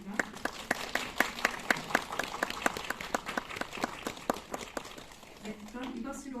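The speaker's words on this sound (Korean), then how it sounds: "네 분께 뜨거운 박수로 응원과 지지 부탁드리겠습니다" Press attendees at a film screening Q&A in a Yongsan CGV cinema clap warmly in a sustained burst of applause that tapers off as a voice begins speaking.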